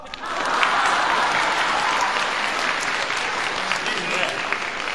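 Loud, sustained applause from a studio audience at a singing lesson show, dense clapping that swells early and holds steady to the end, with a voice faintly mixed in.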